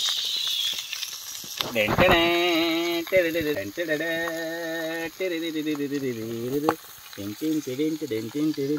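A last batch of fish fries in a pan, giving a steady hissing sizzle close by. Someone talks over it almost the whole time.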